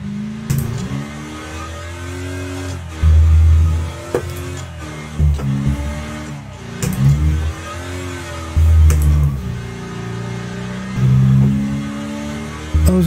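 Race car engines rev and accelerate in the demolition racing video game Wreckfest, rising and falling in loud repeated surges as gears shift, close and dominant with no talking.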